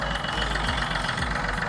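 Steady low rumble of a 2012 Chevrolet Beat LT diesel engine idling, running evenly and close by with a faint knocking texture and no talk.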